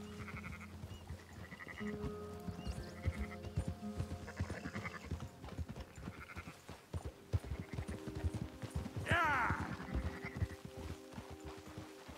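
Sheep in the video game Red Dead Redemption 2 bleat repeatedly among soft clip-clopping hooves, with a sharper call near the end; the sound is moderately quiet and there is no talk.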